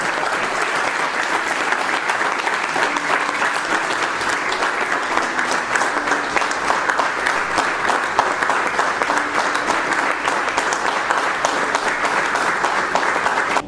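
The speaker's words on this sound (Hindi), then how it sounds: "मैं जोरदार तालियों के साथ" An audience gives loud, sustained applause at a stage event, a dense and even wash of clapping with no break and no voices over it.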